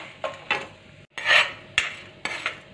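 Lentils dry-roast in a pan while a spoon stirs and scrapes them, giving four or five distinct rasping, rattling strokes at a steady pace, close and fairly loud, with no one talking.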